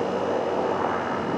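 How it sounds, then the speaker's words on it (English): A helicopter dragging a new power line wire during line stringing beside concrete towers gives a steady, fairly loud engine and rotor drone. "there's the helicopter again, and he's dragging the wire."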